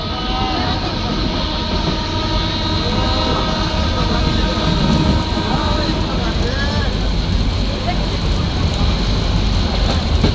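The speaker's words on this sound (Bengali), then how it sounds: "ট্রেনটি এই মুহূর্তে হচ্ছে ক্যান্টনমেন্ট স্টেশন অতিক্রম করছে" Train rolling through Dhaka Cantonment station, a steady loud rumble of wheels and carriages running the whole time, with faint tonal squeals rising above the dense noise.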